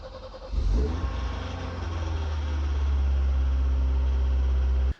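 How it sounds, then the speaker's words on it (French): A BMW E30 engine starts for the first time after an oil change; the starter cranks briefly, then the engine catches and settles into a steady, loud, close idle hum with a deep low drone. "Une fois que c'est fait, je fais un premier démarrage."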